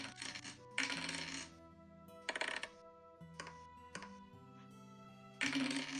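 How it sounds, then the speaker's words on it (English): Dice tumble and clatter on a hard surface during a Dungeons and Dragons session, arriving as several short sharp rattling bursts with quiet gaps between them, close and fairly soft. "I love the sound of rolling dice"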